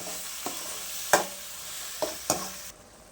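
Ground tomato and a bay leaf are stirred together in a pan, giving a faint simmering hiss punctuated by about four sharp scrapes and taps of the spoon before it falls quiet.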